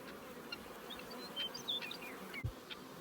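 Honeybees buzzing around survivor hives in a bee yard, a steady low droning hum close by with individual bees passing through, no voices.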